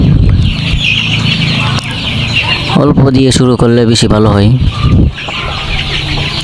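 Layer hens cluck and squawk in a large poultry shed holding about three thousand birds, a dense loud flock chorus heard throughout while someone speaks over it in the middle.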